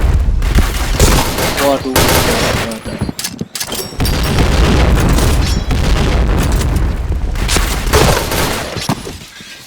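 Grenade blasts and bursts of gunfire in a Counter-Strike-style shooter, loud and heavy booms and rattling shots almost without pause, with a brief quieter gap and a short spoken exclamation.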